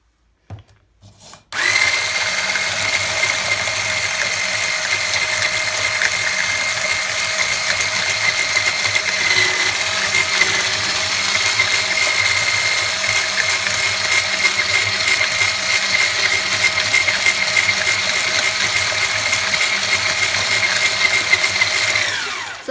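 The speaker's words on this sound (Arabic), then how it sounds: "انا غادي نبقى نضرب الكريمه ديالي مزيان حتى تطلع" An electric mixer whips cold cream for a carrot cake, starting abruptly after a brief quiet moment and then running as a steady, loud, close whirring drone that holds without a break to the end.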